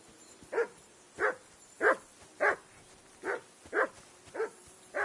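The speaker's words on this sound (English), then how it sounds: "I assume you can hear that damn dog of yours barking." Dog barking in the medieval role-playing game Kingdom Come Deliverance 2, with eight single barks spaced about every half second to second, fairly close and clear over a quiet background.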